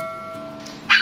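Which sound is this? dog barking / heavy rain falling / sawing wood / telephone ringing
dog barking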